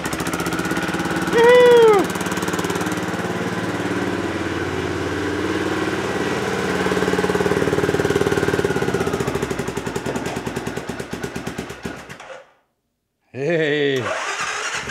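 CFMOTO CF500 engine turning over and catching, then running at a steady idle with a rapid pulsing beat, close and loud, with voices speaking over it.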